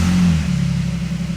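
A Jeep Cherokee 3.7 V6 engine settles from a brief higher rev into a steady low idle, close and loud with a continuous rumble.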